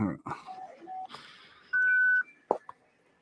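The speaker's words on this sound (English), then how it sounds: "Somebody beeped. Who beeped?" A single clean electronic beep sounds for about half a second between brief snatches of nearby talking.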